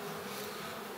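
A dense swarm of honeybees buzzing loudly and steadily at close range while being tipped into a hive box, a continuous unbroken drone.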